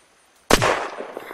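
A single sharp gunshot in the zombie game Unturned, close and loud after a short silence, with a rolling echo tail fading out.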